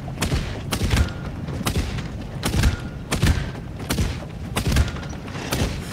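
Guns firing on the Ghost Coaster ride in Epic Roller Coasters, a rapid series of booming shots at a fairly regular pace, close and loud, with no voices.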